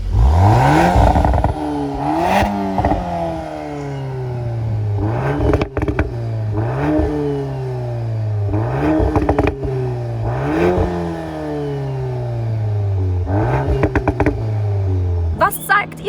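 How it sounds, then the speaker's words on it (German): A VW Golf 8 R engine revs hard several times in a row, each rising and falling sweep loud and close, with sharp exhaust pops and bangs cracking between revs. "Diese Abgasanlage, da kommen noch richtige Pops und Bangs hinten raus."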